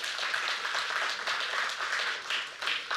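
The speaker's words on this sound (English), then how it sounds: "Round of applause." A debate audience claps for a team, a short burst of crowd applause that swells and dips, moderately loud throughout.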